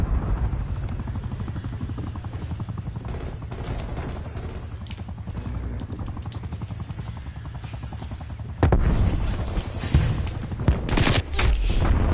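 AK-47 gunfire in the video game Call of Duty Cold War: sustained rattling automatic fire mixed with a steady helicopter-like drone, growing louder and harsher with sharp shot bursts near the end, with no talking.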